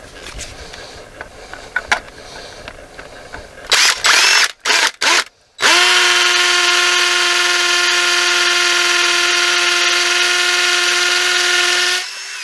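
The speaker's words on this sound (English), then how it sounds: "so now you got a hammer drill" A cordless hammer drill in hammer mode, driving Tapcon screws into masonry, starts in a few short bursts, then runs steadily at a high whine for several seconds before stopping.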